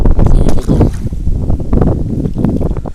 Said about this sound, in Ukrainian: бачите, вітер шалений, здуває